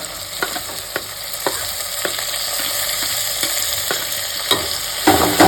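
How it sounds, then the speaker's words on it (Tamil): Onions, tomatoes and curry leaves sauté in a pan for a Kanchipuram-style curd curry, with a steady sizzle and regular rhythmic spatula knocks against the pan, close and loud, and no speech. "வெங்காயம் வதங்க உடனே தக்காளி சேர்த்துக்கலாங்க கூட கறிவேப்பிலையும் நாலு போட்டுக்கலாங்க"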